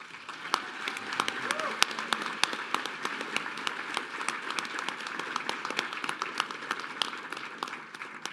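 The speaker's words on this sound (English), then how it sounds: "that deserves a round of applause" Audience applause at the Long Island Imagine Awards ceremony, sustained clapping from a crowd at moderate distance, with sharp individual claps standing out across the full length.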